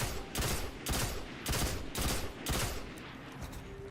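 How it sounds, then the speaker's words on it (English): Red Death, an exotic pulse rifle from the video game Destiny, fires five loud, punchy bursts at an even half-second rhythm, each burst a quick cluster of heavy shots that then fades. "let me just shut up a second here so you can hear the sounds of it"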